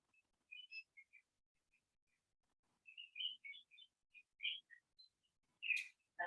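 Birds chirping outdoors, heard from indoors during a yoga class, as faint, scattered high tweets and short whistled calls in small bursts, with quiet gaps between them and no talking.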